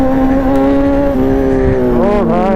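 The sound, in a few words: Kawasaki Z1000 motorcycle engine sound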